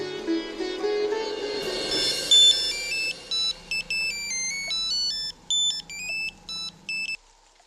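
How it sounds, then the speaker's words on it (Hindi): A telephone rings with a repeating electronic tone in short regular bursts, faint music underneath at first, no talking. "मैं अभी फोन करता हूँ अजीत को।"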